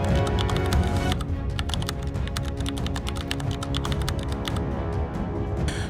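Rapid clicking of a computer keyboard as a question is typed, with dense, irregular keystrokes that are close and steady throughout and a short pause near the end.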